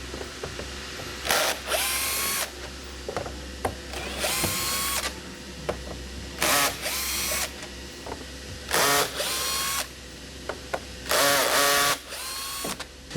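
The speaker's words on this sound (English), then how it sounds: "now you're going to want to remove all of these screws, it should be 60 of them, off this entire thing" Power drill backing out screws from SleepSafer Tall Bed closed extension padding, repeated whirring bursts of one to two seconds with ratcheting clicks between them, close and steady, over a low background hum and no speech.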